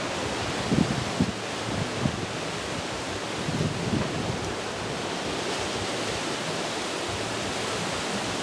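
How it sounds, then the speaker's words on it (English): Strong storm wind rushing through trees, a continuous roaring broadband gust with slight swells, close and loud with no talk. "it's when it is picking up wind. Trees are folding over right now."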